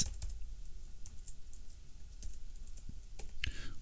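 Light taps and clicks on a computer keyboard come in short irregular runs, close and fairly quiet, as a web address is edited.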